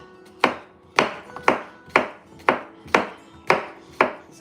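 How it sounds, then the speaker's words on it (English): A knife chops a cucumber on a board in eight evenly spaced, sharp thuds about half a second apart, each ringing briefly before the next, close and clear with no voices. "We're going to take first the cucumber and just chop it up."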